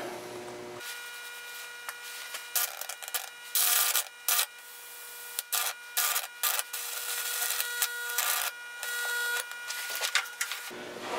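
High-voltage electrical arcs burn Lichtenberg figures into an old-growth fir board, giving a continuous harsh crackling buzz broken by many sharp bursts that switch on and off over about ten seconds.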